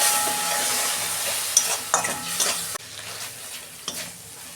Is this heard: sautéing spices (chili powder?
yes